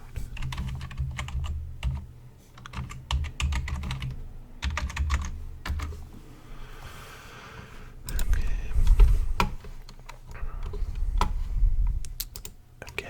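A mechanical keyboard clatters in quick bursts of close, crisp keystrokes separated by short pauses, with a heavier run of typing toward the end.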